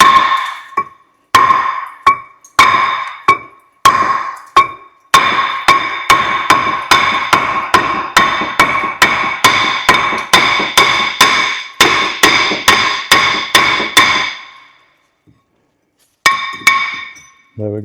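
Sharp, ringing metallic hammer blows on a badly rusted front brake disc stuck to a Mercedes Sprinter hub, first spaced strikes, then a long rapid run of loud, clanging hits, a pause and a final few blows.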